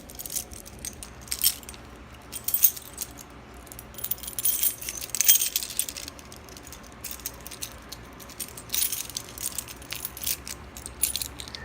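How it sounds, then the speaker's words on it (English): A ring of handcuff keys jangles and clinks in close, bright bursts of metallic rattling that come and go for several seconds, with no voices over it. "Grab the keys."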